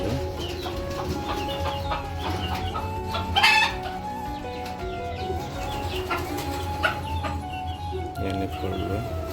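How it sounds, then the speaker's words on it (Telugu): Chickens cluck steadily on a farm plot in Kuwait while a rooster crows loudly near the middle, with more fowl calls scattered throughout and no talk. "ఎన్ని కోళ్ళు,"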